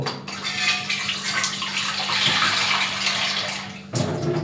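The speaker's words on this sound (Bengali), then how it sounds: "জল নিয়ে নিয়েছি, পাস্তাটা এবার খুলে দেবো।" Tap water runs steadily into a cooking pot for pasta on a gas stove, a close, loud continuous rushing gush lasting several seconds before the flow briefly shifts near the end.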